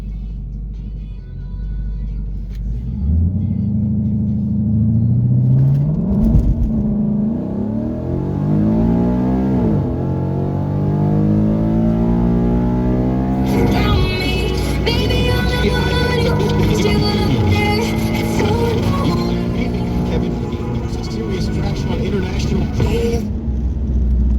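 A 2015 Ford Mustang with a 6R80 automatic and modified exhaust launches at a drag track against a Jaguar, its engine loud and close as it climbs in pitch through several gear shifts, then holds a steady high drone.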